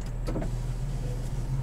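The power rear window of a 2018 Toyota Tacoma TRD Sport runs inside the cab, a low, steady electric motor hum with faint mechanical whirring, close and uninterrupted.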